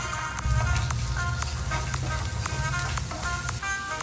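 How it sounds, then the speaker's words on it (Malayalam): Sliced shallots sautéing in hot coconut oil in a pan, with a dense, continuous sizzle and crackle that stays fairly even throughout, no one speaking. "എണ്ണ ചൂടായാൽ ആദ്യം നമുക്ക് ചെറിയ ഉള്ളി നീളത്തിലരിഞ്ഞത് ഇട്ട് കൊടുക്കണം"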